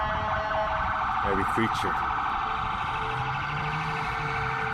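A wailing emergency siren sounds steadily in the background while a person speaks briefly over it.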